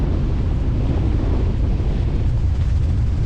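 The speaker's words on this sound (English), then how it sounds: "And it's windy." Strong wind buffets the microphone on a boat trip, a constant loud low roar with rushing gusts and a hint of surf, no voices.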